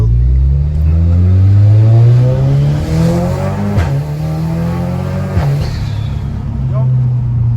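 An Audi S3 revs hard with turbo flutter, a loud steady engine drone rising and falling with sharp blips near the mic, while people talk over it.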